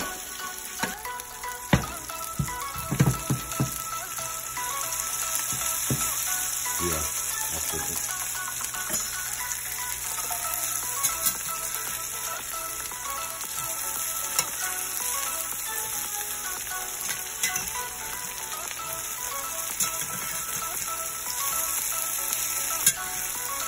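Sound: okra coated in buttermilk frying in a pan

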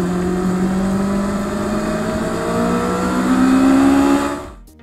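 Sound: motorbike engine running, recorded by Firefly 6s camera mic

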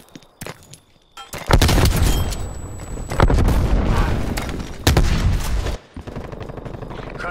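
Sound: frag grenade explosion and gunfire, video game Call of Duty

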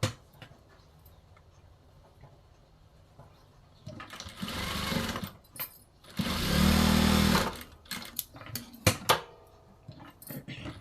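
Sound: sewing machine stitching blouse shoulder seam

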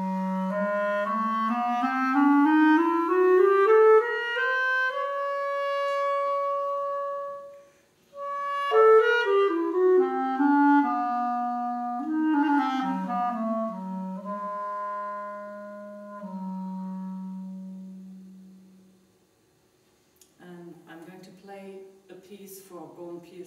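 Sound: clarinet solo in the Bohlen-Pierce scale

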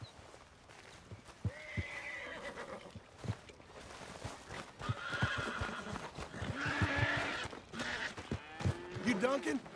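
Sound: horse neighing and hooves clip-clopping, from video game Red Dead Redemption 2

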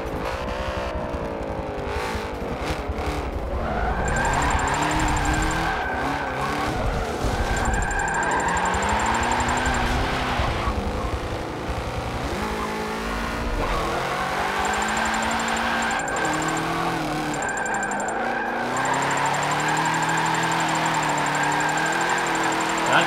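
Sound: Corvette car engine and tire skids in Forza Motorsport 7 video game

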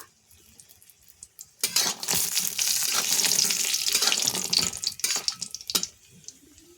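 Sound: dried red chillies frying in hot oil

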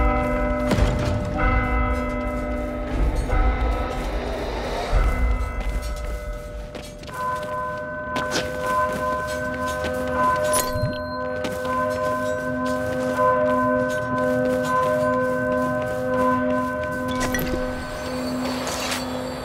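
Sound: church bell ringing in the video game Warhammer: Vermintide 2

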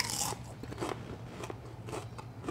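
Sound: biting crunchy homemade vegan nacho chips

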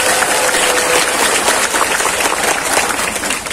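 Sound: applause at an Islamic boarding school gathering

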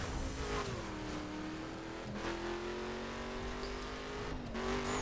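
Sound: battered car driving in the video game The Crew

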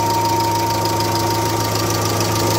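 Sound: Kia Spectra engine running with slight noise

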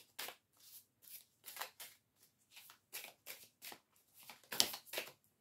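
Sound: shuffling tarot cards

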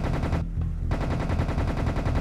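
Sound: gunfire in video game Serious Sam

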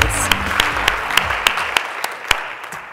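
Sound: audience applause at awards ceremony

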